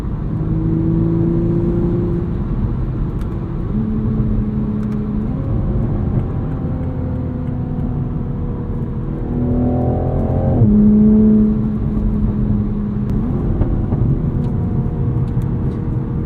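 A grey 2022 Toyota Supra engine revs through shifts in manual mode, steady tones climbing and dropping between gear changes with a smooth, continuous drone and a louder surge near the middle, close and unaccompanied.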